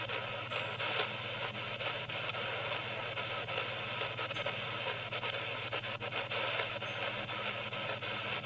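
Steady interference hiss and buzz on an XHDATA D-226 AM/FM/shortwave portable radio, a constant rasping static with a low hum underneath and no voices.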